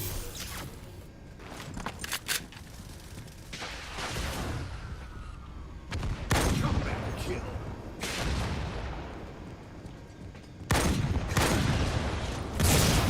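Needler weapon fire in the Halo video game, several sharp bursts of shots spaced a few seconds apart among game effects, fairly quiet, with talking over parts of it.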